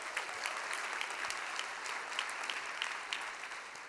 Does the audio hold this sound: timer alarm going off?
no